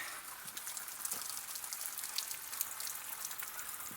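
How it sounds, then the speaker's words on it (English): Heavy rain falls outside on a yard in a steady, fizzing wash with scattered sharper drips on top, holding an even level throughout with no voices. "got a heavy rain."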